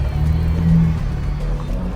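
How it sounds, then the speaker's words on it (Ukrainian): Ford Raptor fitted with a sport exhaust, a steady deep low engine rumble with a slight swell in the middle, close and continuous, no clear high rev spike. "Спорт. Спорт вихлоп."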